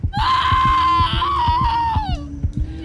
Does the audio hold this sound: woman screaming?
yes